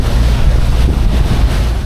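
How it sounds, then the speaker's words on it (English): A water taxi boat cruises on the Saigon River, heard as a loud, continuous low rumble of wind buffeting and water rushing past the hull, with no voices. "a water taxi down the Saigon River is a must"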